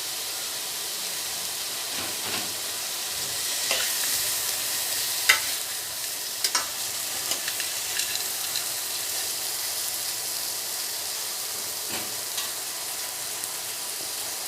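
Vegetables seasoned with pepper and salt are stirred in a pot on an infrared cooker: a constant frying sizzle and hiss with occasional soft scraping clicks from the spoon, close up and without speech.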